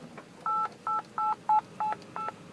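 Six clean dual-tone dialing beeps from the car phone in a 1995 Mercedes-Benz S500 Lorinser coupe (C140), played through the cabin speakers in a steady, evenly spaced sequence against a quiet background.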